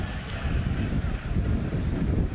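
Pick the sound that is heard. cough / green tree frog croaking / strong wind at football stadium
strong wind at football stadium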